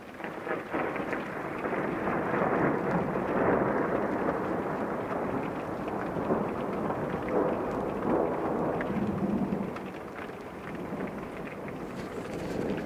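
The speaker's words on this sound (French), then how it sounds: "on est en train de se taper donc un orage très électrique" A very electric thunderstorm near Carpentras rumbles on with continuous rolling thunder over steady rain, loud and sustained throughout.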